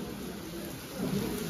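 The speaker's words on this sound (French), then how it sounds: "Allez, face à la pluie." Heavy rain pours steadily during a storm, a dense and loud wash of noise with a low rumble swelling near the end, with no speech over it.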